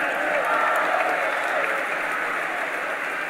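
Thunderous applause for the Prime Minister at a BN Youth Machinery launch ceremony, a dense, sustained roar of many hands clapping with crowd noise, loud and steady throughout.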